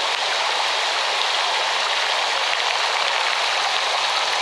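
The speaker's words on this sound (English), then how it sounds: "that's not rain hitting the water, it's actually bubbling" Steady, dense bubbling and gurgling of a boiling mud hot spring, a continuous hiss-like wash of small pops close by, with no voices.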